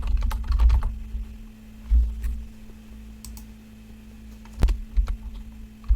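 Fingers type a prompt on a computer keyboard, bursts of close clicking keystrokes with pauses between them over a low steady hum, with no voices.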